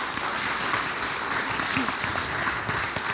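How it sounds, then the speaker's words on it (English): A meeting audience gives a round of applause, steady clapping from many hands filling the room for a few seconds. "So let's give them a round of applause."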